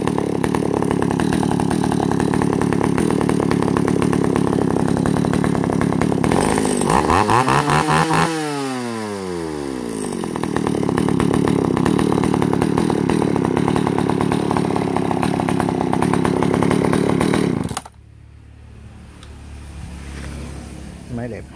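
A Japanese-made Echo 331EVL chainsaw engine runs loud and close, revving down briefly before building back up to a steady buzzing roar, then cutting off abruptly near the end and leaving a quiet background.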